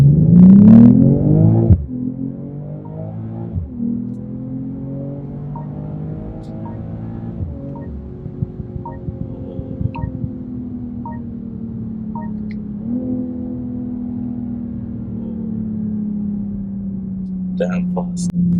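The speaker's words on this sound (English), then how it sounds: "Let me just launch this car once from start so you can hear the exhaust note." A BMW M340i launches hard from a standstill, its exhaust note surging loudly and then settling into a long, steady engine drone as the car pulls away, with a voice talking over it.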